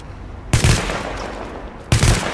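Two sharp gunshot blasts about 1.4 seconds apart, fired at locks in the video game The Division, each punchy and close with a short rumbling tail over a quiet background.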